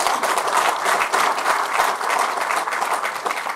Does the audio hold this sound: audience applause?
yes